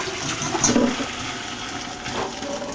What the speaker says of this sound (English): we will strain them.